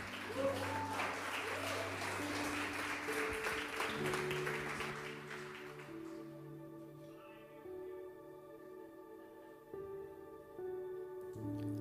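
An audience applauds to welcome speaker Alessandro Góes onto the stage at an anxiety talk, the clapping strong over music for about six seconds before fading and leaving the music alone.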